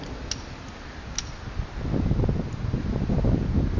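Wind blows outdoors against the microphone while a torch is being lit. It makes a continuous rushing buffet that grows louder and rumbles low halfway through, with a couple of faint ticks early on.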